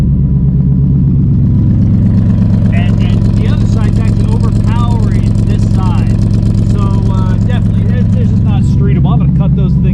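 A Cobra Daytona's engine runs through its new exhaust, giving a loud, steady, close idle rumble that holds for the whole stretch while voices talk over it.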